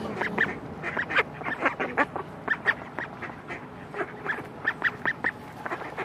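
Ducks at a zoo quack repeatedly in quick, uneven bursts, several calls overlapping at close range against quiet outdoor background, with no talking.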